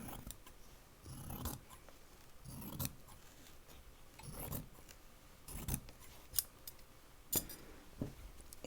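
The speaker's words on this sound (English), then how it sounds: "So I'm going to go ahead and use my current piece to cut the outside of my bag." Scissors cut through fabric for a cross-body bag, about six separate bursts of crisp snipping and sliding, close and quiet with no talking.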